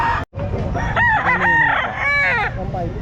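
A rooster crows loudly and close at a busy pet market in Calumpit, with a long drawn-out call over steady crowd noise, and people talking nearby.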